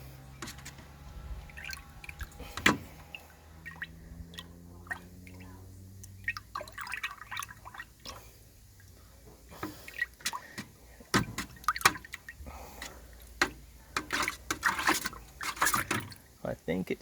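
A tin of Intergrain Ultradeck decking oil being stirred: thick liquid sloshes and drips irregularly, with sticky plops and a few sharp knocks, close by, while a voice talks at times.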